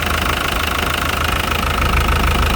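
A used single-cab pickup truck's engine idles steadily up close, giving a constant low rumble with a faint knocking rhythm and no speech.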